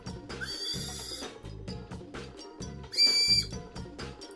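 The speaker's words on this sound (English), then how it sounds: "One side whistles better than the other." Breathy, airy whistling from a Japanese Ramune whistle candy comes in short blown notes, some shrill and piercing, with soft huffs of breath between them, close by.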